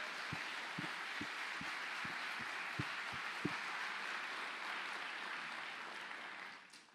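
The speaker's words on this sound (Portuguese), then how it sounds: "Você pode dar um aplauso ao Senhor?" A church congregation applauding the Lord during a Portuguese-language worship service, sustained dense clapping with a few louder individual claps, steady for several seconds before fading out.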